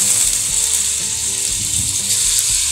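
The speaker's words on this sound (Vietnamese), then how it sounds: "Cái này mình chiên sơ sơ lại các bạn ơi." Pork intestines fry in a hot pan with a steady, close, crackling sizzle that runs throughout, alongside faint clicking kitchen noises and no talking.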